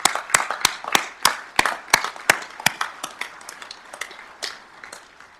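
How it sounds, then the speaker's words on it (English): Scattered hand claps from a small audience at an outdoor dedication of a diversion inlet structure, honoring the construction workers, with about a dozen sharp claps spaced irregularly and thinning out toward the end. "I'd like to give you a round of applause"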